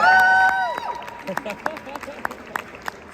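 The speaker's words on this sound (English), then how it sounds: "Big applause for our three speakers" Audience at a Web3 investor panel applauding its three speakers: a whooping voice rings out first, then scattered, sparse claps continue at moderate loudness.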